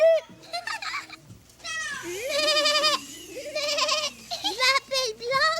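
A small goat is voiced by a performer in a French children's TV story, giving repeated high, wavering bleats in close, loud bursts with short pauses between them.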